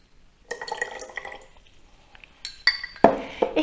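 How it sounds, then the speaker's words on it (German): Spoonfuls of water splash and drip into a bowl of Japanese sesame dressing, with light clinks of a spoon against glass in a quiet kitchen. "Dann gebe ich 1 bis 2 Esslöffel Wasser rein."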